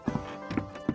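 Footsteps in a Pinocchio video game demo, heard as a few hard, hollow clops spaced unevenly, close and fairly loud with nothing else over them.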